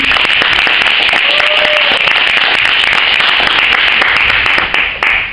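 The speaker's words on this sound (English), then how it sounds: "can we give everybody a round of applause" A crowd at an art panel discussion for The Neighborhood exhibition on Stockton Blvd claps in a loud, dense, continuous round of applause that holds steady for several seconds before thinning slightly at the end.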